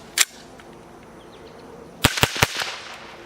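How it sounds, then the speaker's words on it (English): A .22 LR rifle, an AR-15 fitted with a CMMG .22 conversion adapter, fires one shot followed by three quick sharp shots about two seconds later, crisp and fairly close, outdoors with no talking. "you're ready to start shooting 22 LR out of your AR-15."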